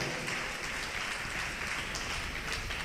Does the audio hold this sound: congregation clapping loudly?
yes